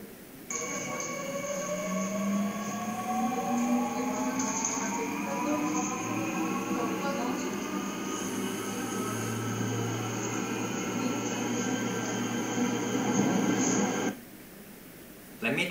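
A subway train recording plays back in a technology demo, a steady rumble with whining tones that climb in pitch as the train accelerates, lasting about fourteen seconds before cutting off abruptly.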